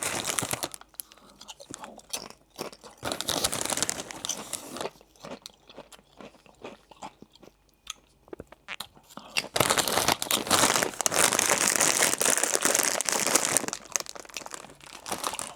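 Kettle honey Dijon mustard crisps crunched and chewed up close, in bursts of crisp crackling with short pauses, then a long steady run of loud crunching.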